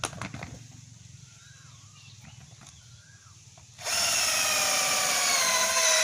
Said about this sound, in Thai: เราก็มาเจาะ